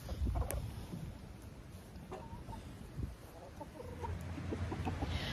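Chickens cluck softly and intermittently nearby in a breeding pen, with a black Ameraucana rooster's low calls among scattered blue Ameraucana hen noises over quiet background hiss.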